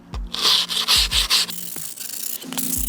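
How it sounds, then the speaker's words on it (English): Skateboard grip tape being sanded along the deck edge: several close, rough rubbing strokes in short bursts, with a few low thumps in between and no talking. "It just kind of sands it down on the edge."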